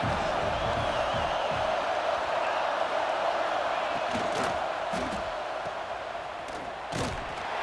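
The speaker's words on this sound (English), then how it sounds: "This Auburn crowd trying to conjure up a little magic here on third down" Roaring stadium crowd noise at Auburn in the College Football 26 video game, a continuous dense wash of cheering and shouting with a few sharper peaks, under a commentator's voice.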